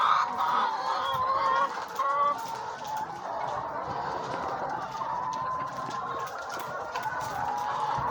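Many laying hens cluck and murmur continuously in a henhouse, a busy overlapping chorus at moderate volume with no talking.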